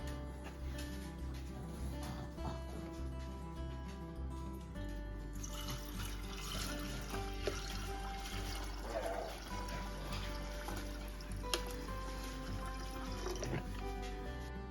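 Vinegar is poured into an electric kettle to clean it, producing a quiet, steady trickle and gurgle of liquid over a low background hum.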